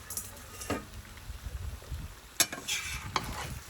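Shashlik with sliced red hot pepper and herbs is stirred in a kazan, with a soft sizzle underneath and a few sharp scrapes and clanks of the utensil against the pot, close and without talk.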